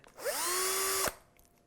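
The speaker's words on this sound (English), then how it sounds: "let's just give it a little countersink" A drill turns a countersink bit into wood to seat screws on a Trev Wilkinson guitar kit, a single close burst of about a second whose whine rises and then holds before cutting off sharply.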